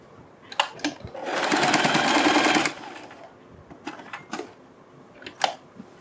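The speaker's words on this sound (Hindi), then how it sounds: "फिर इसी लाइन पर फोल्ड करते हुए हम इसके ऊपर भी सिलाई लगा देंगे" A sewing machine stitches the side seam of a kurti in one steady burst of about a second and a half, followed by quieter clicks and fabric handling.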